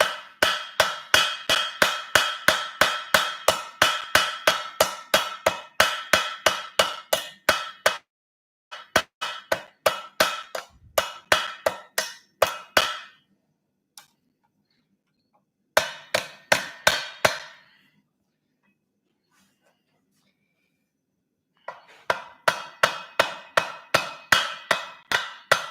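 A hammer rings sharply on hot steel over an anvil while a horseshoe is forged, delivering fast, evenly spaced blows in several runs separated by short pauses and longer silences.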